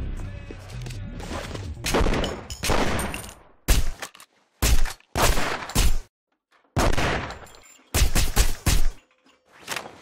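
Gunfire in The Punisher video game during a shootout mission in a bar: repeated loud bursts of automatic fire and single shots, separated by brief silences, with no speech.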